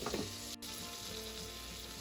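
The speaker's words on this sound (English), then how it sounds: "We're going to add to that a tablespoon of butter. Wait till it's sizzling, but not smoking." Bacon grease and a tablespoon of butter sizzling in a pan, a dense close crackling hiss that holds steady after a brief stir, with no voices.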